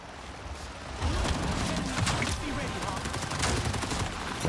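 Rockets and gunfire aimed at a helicopter in the video game Avatar: Frontiers of Pandora make a dense run of rapid blasts and crackling impacts that swell louder after the first second and keep going to the end.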